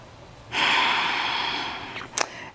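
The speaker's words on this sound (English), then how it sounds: "One more big breath." One long, deep breath during a yoga exercise for the pelvic floor and posture: a sustained airy inhale or exhale close to the microphone, fading slowly, ending with a short sharp sniff, no talking.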